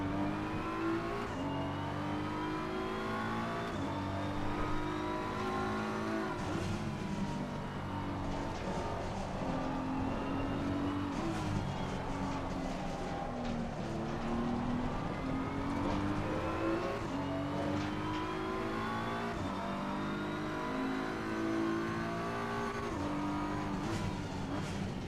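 Race car engines in Assetto Corsa Competizione, several cars roaring steadily together as their revs rise and fall through gear changes, a continuous dense drone with no speech.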